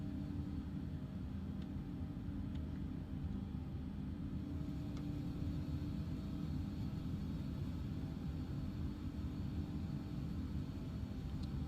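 An XCrafts E145XR regional jet taxis quickly in X-Plane, its engines giving a steady, even rumble that holds unchanged throughout with no voices.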